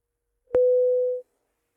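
After a soft click, a telephone line plays one short, steady electronic tone lasting under a second, then falls silent.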